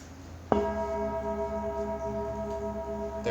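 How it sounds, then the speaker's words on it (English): A bell is struck once during a dharma talk, giving a sharp strike and then a clear, sustained ringing tone with steady harmonics that slowly fades and lingers for several seconds, heard alone. "So I strike the bell."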